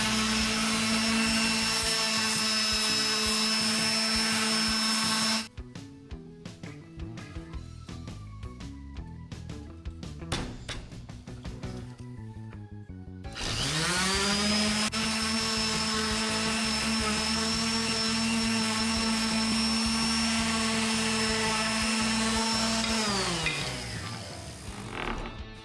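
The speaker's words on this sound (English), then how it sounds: "Sanding, I started at 80, then 120 grit, then we finish at 220 grit." A power sander whines loudly and steadily over an epoxy resin chessboard, cutting out briefly mid-stretch for scattered handling noise before spinning back up and winding down at the end.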